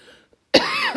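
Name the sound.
person coughing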